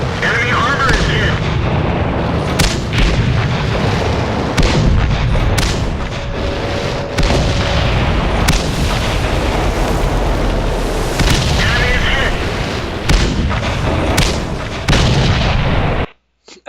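Tank cannons firing gold shells in a tank video game, a dense run of heavy booming shots and impacts over a continuous rumbling engine bed, close and loud until an abrupt cut at the end.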